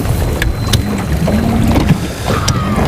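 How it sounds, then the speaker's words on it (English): Boat motor idling steadily at close range on a river below floodgates, a continuous low rumble with wind buffeting over the microphone. "I forgot to turn the motor off"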